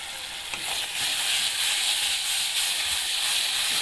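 Noodles being stirred in a hot pan with tomato sauce, chili sauce and a little soy sauce, giving a steady loud sizzle and hiss with scraping stir strokes throughout.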